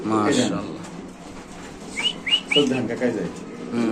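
Bird calls at a pigeon market, with a few short rising chirps standing out near the middle, under and between people talking close by.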